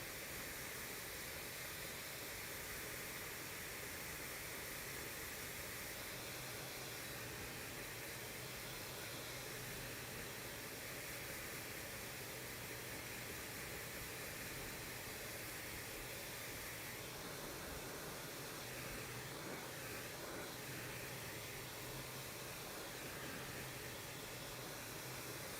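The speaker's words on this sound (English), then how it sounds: "This is a very quiet blow dryer." A hair dryer blows with a soft, steady whoosh of air that holds constant throughout, with no talking.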